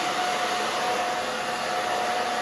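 A hair dryer blowing hair during a bob haircut, a loud steady whoosh that runs unbroken and close throughout the short stretch.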